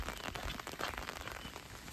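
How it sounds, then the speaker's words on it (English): Rain falls on a nature trail, a dense, continuous patter of drops striking surfaces close by, steady throughout with no talking. "Okay, so it's still raining"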